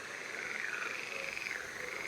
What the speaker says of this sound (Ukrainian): Просто мені здається, що там відбуваються якісь жаб'ячі баталії